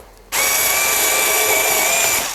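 An INTERTOOL WT-0300 cordless screwdriver fitted for cutting slices through cardboard: the motor starts abruptly and holds a steady, loud, high whirring drone close by, with no speech.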